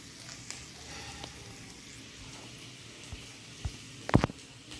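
Ginger sizzles in a pan of hot oil with curry leaves, a low steady crackle with a couple of sharp scraping stirs near the end.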